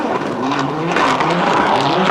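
An Audi Quattro S1 race car slides sideways across a wet, puddled track at a hairpin during the 1988 Race of Champions, a loud continuous engine roar mixed with tire hiss and skidding noise.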